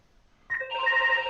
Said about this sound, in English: Oh, that's the phone, Reg.